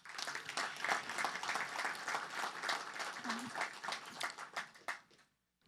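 An audience applauds at the launch event of the SHCN, with steady, dense clapping from a crowd for about five seconds that fades out at the end.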